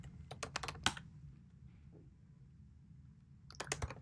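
Computer keyboard typing a sudo apt-get command: quick bursts of close, crisp key clicks at the start and end with a quiet pause between.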